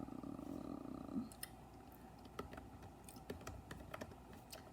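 Keys on a computer keyboard are tapped in scattered, irregular clicks, close but quiet, over a low steady hum from the room.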